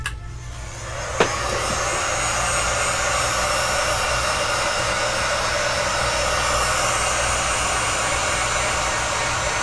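A dryer blows a steady, loud whooshing roar while drying a wax and alcohol pour. It starts after a short click and runs on evenly, close up, with no talk.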